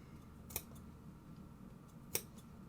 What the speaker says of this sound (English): just little snips will allow for that curve to actually show when we start stuffing the